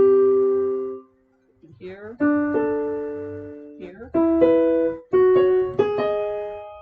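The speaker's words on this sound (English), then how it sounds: "Another one called the fifth sounds like this" An instrument plays a series of perfect fifths in different places, each pair of notes struck together and left to ring. The dyads come one after another in a loose rhythm, with a brief spoken word between them.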